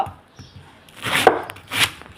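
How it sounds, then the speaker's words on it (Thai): A few sharp chopping strikes through a fibrous banana stalk, two louder blows near the end after lighter taps, close up with no talking. "เราหั่นตอนนี้"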